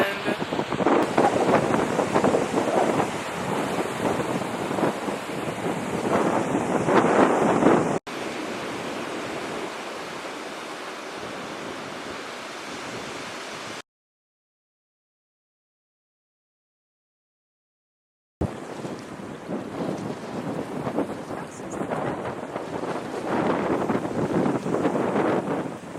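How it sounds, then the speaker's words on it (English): Broadband wind and surf roar along a beach in Galway, Ireland, loud and steady with gusts buffeting the microphone, dropping to a quieter wash midway and cutting out briefly before the surging wave noise returns. "I'm on a beach in Ireland."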